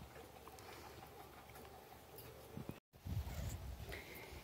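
A parrot gives a few soft, scattered calls indoors, followed by a louder low rustle near the end.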